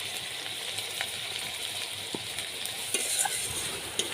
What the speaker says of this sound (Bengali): জিরা আদা রসুন বাটা একসাথে সব মশলা ভালোভাবে কষিয়ে নেব